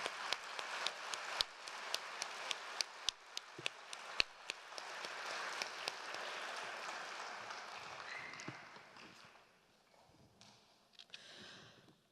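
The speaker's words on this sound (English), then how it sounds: "Big round of applause for the girls." Audience applause for two dancers at a Bharatanatyam Arangetram, a sustained wash of clapping with sharp individual claps standing out, which fades away after about nine seconds to a quiet room.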